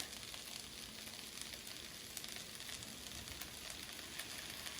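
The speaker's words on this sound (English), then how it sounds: "you hear that sizzling?" Smoked paprika and garlic sizzle steadily in a hot pan, a faint, even crackling hiss with no speech over it.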